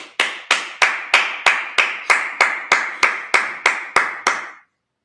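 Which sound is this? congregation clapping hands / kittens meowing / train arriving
congregation clapping hands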